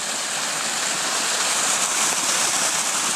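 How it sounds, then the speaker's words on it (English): A small creek runs over rocks during off-road prospecting near old mines, giving a steady, close, broadband rush of water that holds constant and alone throughout. "checking out the creek"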